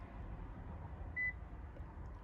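A Toyota smart key registration buzzer gives one short, clear electronic beep, faint against a steady low hum in a quiet car interior.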